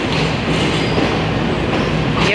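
Indian passenger train passing close by at speed, a loud continuous rumble with clattering wheels and faint squeal, steady throughout.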